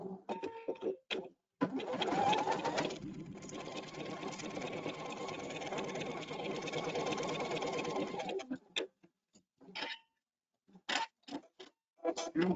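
A Pfaff sewing machine stitches fabric pieces together, its fast rhythmic motor hum running steadily for about seven seconds, followed by a few short bursts and clicks as the work is adjusted.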